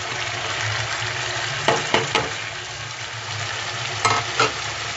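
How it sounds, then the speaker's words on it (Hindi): Ginger garlic paste and spices frying in a karahi over medium heat, a steady sizzle running throughout, with a few short scraping stirs of a spoon near the start and again toward the end. "मीडियम आंच पे और चम्मच चलाते रहेंगे।"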